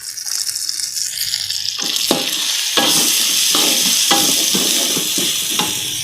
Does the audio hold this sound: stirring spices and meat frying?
yes